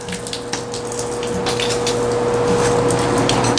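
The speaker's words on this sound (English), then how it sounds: "I'm going to end on her standing and being rinsed" Water from a hose rinsing a horse: a steady, close gushing hiss that builds slightly louder, over a constant mechanical pump hum.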